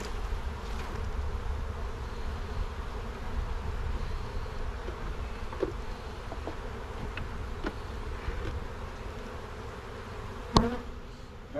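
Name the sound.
honeybees buzzing around a weak hive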